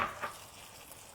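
Vegetarian chicken steak pan-frying until charred, a faint, soft sizzle with a couple of brief crackles at the start before settling into a quiet, steady hiss.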